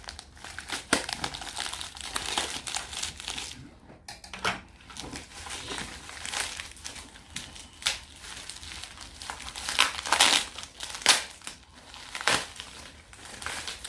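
Plastic and cardboard packaging around comics crinkles and tears in continuous, close handling, with irregular crackling bursts and rustles and no talking.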